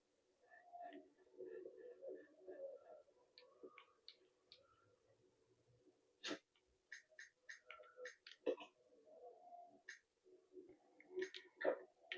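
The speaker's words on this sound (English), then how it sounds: "Freaking crows." Crows caw in the Resident Evil 0 video game: short, hoarse calls come in scattered bursts over a quiet game background, with sharp impact sounds in between and no voices.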